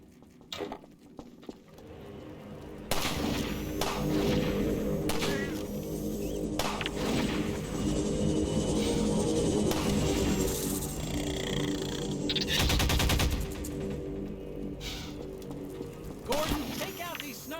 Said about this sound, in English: These snipers got me pinned down. Gordon, lob a couple grenades.